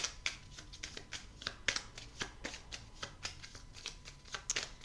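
Oracle cards are shuffled by hand during a love-themed card reading, making a run of crisp, rapid riffling flicks and slaps in an irregular rhythm, close and fairly quiet with no talking.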